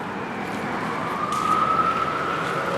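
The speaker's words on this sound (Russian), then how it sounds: "Сирены. сирен." An emergency vehicle siren wails faintly in the distance on a New York street, briefly rising and falling above a steady low rumble of city traffic.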